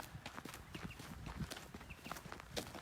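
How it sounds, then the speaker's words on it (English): Horses shifting and stepping inside riding-school stables, soft irregular hoof clops and thuds on the stable floor, fairly faint and close, with no talk. "These are some of our horses."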